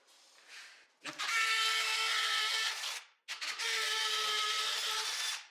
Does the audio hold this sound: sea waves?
no